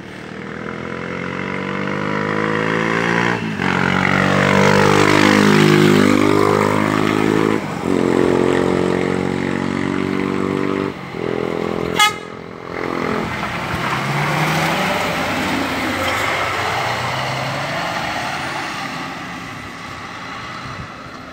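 A Rápido Federal intercity bus running from Brasília to Goiânia at a busy interstate bus station, its loud engine roaring close by and revving with sweeping pitch changes, along with a brief air-brake hiss and the noise of other traffic.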